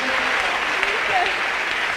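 Congregation clapping in a church service, a steady dense wash of applause held throughout under a raised voice speaking over it.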